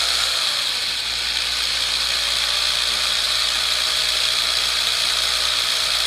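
Coil winding machine wrapping wire onto a guitar neck pickup: a steady, loud, continuous whirring drone with a bright hiss, unbroken and even throughout, with no speech.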